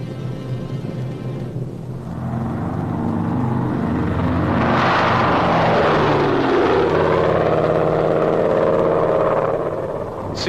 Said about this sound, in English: C-47s landed at emergency strips